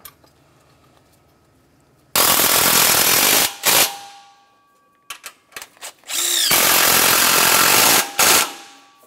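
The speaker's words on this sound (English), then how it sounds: "we'll start in all of the mounting bolts, snug them up, and torque them to 30 foot-pounds." Power tool driving in the bypass pulley mounting bolts on a 1994-2002 Dodge Ram 2500, two loud close bursts of whirring separated by short clicks and rattles, with a brief spin-up between them.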